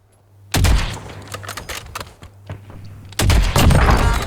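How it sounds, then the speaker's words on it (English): Sniper rifle fire in the video game Warzone, set in Verdansk: two sharp, loud shots with a cluster of quieter cracks and thuds between them, heard close with no speech. "Somebody's sniping at him from my right."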